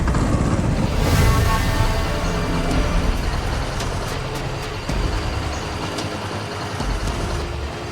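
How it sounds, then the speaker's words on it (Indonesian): A motorcycle engine runs steadily nearby, a continuous rough idling drone that holds at an even level throughout. "Kok nyala lagi nih motor?"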